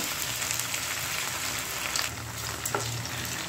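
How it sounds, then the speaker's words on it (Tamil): Ivy gourd (kovakkai) frying in oil in a pan, a steady dense sizzle throughout with light stirring scrapes, close and even, with no talking. "இந்த பேனில் இருக்கிற எண்ணெயில் போட்டு நல்லா ஒரு ஃப்ரை பண்ணி எடுத்துக்கோங்க"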